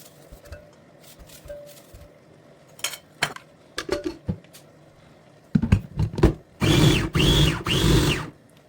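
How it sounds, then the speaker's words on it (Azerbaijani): An electric food chopper whirs through onions in a home kitchen, starting with scattered clicks and clatters of handling, then short loud motor bursts pulsed one after another near the end. "Keçirəm soğanları xırdalayıcıdan keçirməyə."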